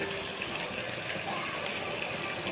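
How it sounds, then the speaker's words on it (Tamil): Water pours steadily into a pot of mushroom curry, a soft, continuous gushing fill heard fairly faint and close with no talk over it. "தேவையான அளவு தண்ணி ஊற்றி கொதிக்க வச்சு"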